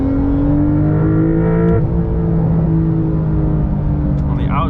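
A 2023 Porsche 911 GTS engine heard from outside the car, a steady close droning rumble that shifts pitch partway through as revs change, with a faint high chirp near the end.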